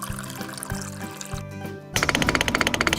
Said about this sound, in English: Pour water into the drum.